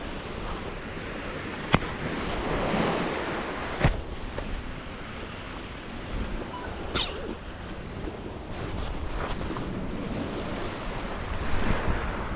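Sea surf washing onto the shore near Yalta and Gurzuf in Crimea, a steady wash of waves with wind buffeting the microphone, a few sharp louder splashes breaking through, no voices.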